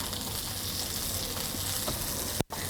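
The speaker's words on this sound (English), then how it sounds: "sizzling straight away." Onions sizzle steadily in a hot pan, a dense continuous crackling hiss, with a brief clunk near the end.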